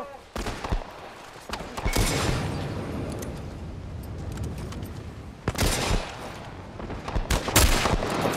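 Rifle fire in The Last of Us Part I, several sharp, loud shots in separate bursts with echoing tails, mixed with in-game combat noise and a player talking between shots.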